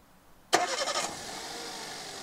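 A car engine cranks and fires on its first start after an E85 ethanol conversion kit install, with a sharp burst of starter and ignition noise that settles into a steady idle.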